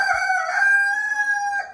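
A Pekin cuckoo bantam rooster crows once, close and loud, a sustained clear cock-a-doodle-doo with no talking.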